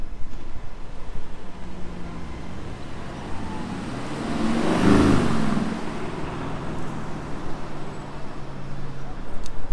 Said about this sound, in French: Très belle Aston Martin Vantage gris qui va passer